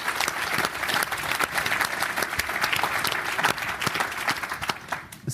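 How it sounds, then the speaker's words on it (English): Audience applause at a NABERS talk, with brisk, fairly loud clapping from a moderate crowd carrying on steadily throughout and individual sharp claps standing out. "we get a round of applause for that?"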